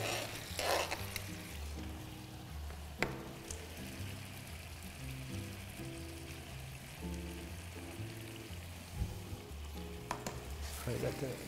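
Lobster meat sizzles and fries in a pan of tomato sauce, a steady soft crackle and bubbling with occasional stirring clinks, close and continuous, with faint speech in the background.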